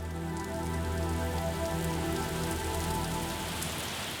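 Violent rain shower in a volcanic river plain on Réunion, a dense, even hiss of heavy rain pouring steadily on surfaces, loud and continuous with no voices.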